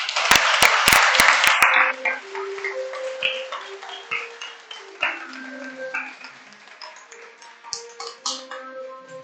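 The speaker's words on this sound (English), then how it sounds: "Let's give a round of applause to Kim Young-yeon Rion." A round of applause at a middle-school English debate battle as the day's MVP is announced, with a few sharp taps at the start before the clapping fades into light, scattered claps and small knocks.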